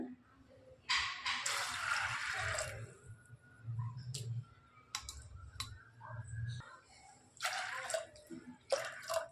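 Water is poured into a pot of soaked cowpeas seasoned with salt and asafoetida for a Tamil cowpea kulambu, heard as a few splashy bursts of pouring over a steady low kitchen hum.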